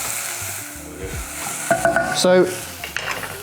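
Onions and mixed vegetables sizzle steadily in a lightly oiled pan over medium heat, with a spoon stirring and scraping through them in a few close bursts; a brief spoken word comes near the end.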